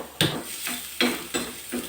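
Raw ginger and garlic being lightly fried in a pan for biryani masala, with a stirring utensil scraping through it in four or five rhythmic strokes over a soft, steady sizzle, close and fairly quiet.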